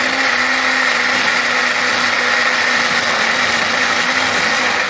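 A blender whirs loudly and continuously, its steady motor whine and hum holding unchanged from start to finish.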